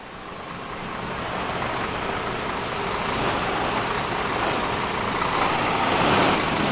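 Heavy trucks hauling freight for a factory works roll past in a steady, rising roar of engines and tyres that continues without pause, with no one speaking.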